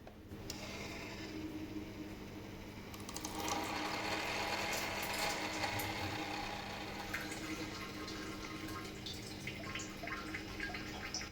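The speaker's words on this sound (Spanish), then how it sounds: "debería de escuchar cómo se abre nuestra válvula y empieza a circular el agua" A valve clicks open on a DIY automated reverse osmosis system and water begins flowing through the filter and dripping from the outlet steadily, a continuous watery rush that grows a little louder and stays on.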